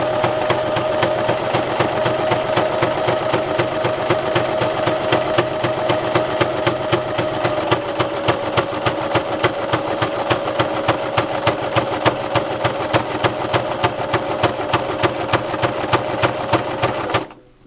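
A sewing machine stitching tightly woven broadcloth with thread tension upset, a loud, rough, rapid rhythmic clatter of needle strokes running steadily for a long stretch before stopping abruptly at the end.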